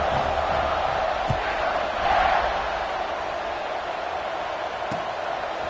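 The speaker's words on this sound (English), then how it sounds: "this crowd is buzzing after that last score" A stadium crowd at a TCU college football game buzzing after a late touchdown, a steady roar swelling slightly mid-way, with a commentator talking over it.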